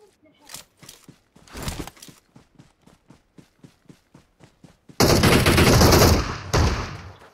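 Gunfire in the PUBG Mobile video game, a shotgun among the weapons: a run of sharp, evenly spaced shots in quick succession, then a loud dense burst of noise near the end, with voices talking over the action.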